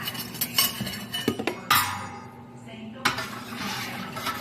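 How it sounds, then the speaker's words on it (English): Sausage with garlic and pepper seasoning stirred in a pot, a spoon clattering and scraping against the metal in a few quick bursts, close and fairly loud, with a steady heating hiss underneath. "We'll give that a good stir and let it heat up."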